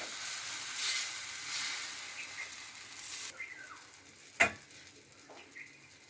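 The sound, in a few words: mango batter frying in a pan over low gas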